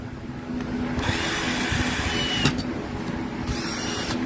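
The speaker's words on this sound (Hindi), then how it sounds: "लाइट जल रही है, ड्रिल घूम रही है।" Cordless drill running steadily with a continuous whirring hum and a few brief pitch changes, loud and close, with no talk over it.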